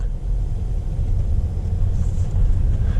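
A Tesla Model X Plaid pulls away from a standstill, giving a steady low rumble of road and drivetrain noise that holds fairly loud and even the whole time, with no talking.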